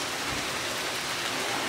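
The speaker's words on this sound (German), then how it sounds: "Ja, und jetzt regnet es." Rain pours down during a thunderstorm in Greece, a dense, even hiss of drops on surfaces, close and loud with no thunder or talk.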